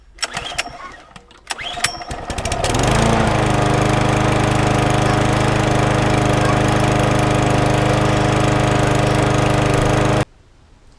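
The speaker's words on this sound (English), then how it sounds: "the little red lawnmower is now up and running" A few sharp rattles from a starter pull, then a small lawnmower engine roars to life and runs loud and steady before cutting off abruptly.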